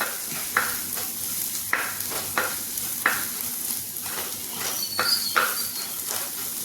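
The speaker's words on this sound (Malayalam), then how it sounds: "ഒന്ന് ഇളക്കാം" Chili and turmeric powder being stirred in a pan for a Kerala tamarind curry, a soft scraping stir with sizzle and a few distinct strokes at a steady rhythm, close and fairly quiet, no voices.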